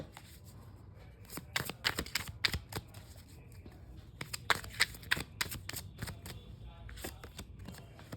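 Tarot cards are shuffled and pulled from a deck at close range, giving clusters of crisp flicks and slaps with short pauses between them, and no talking.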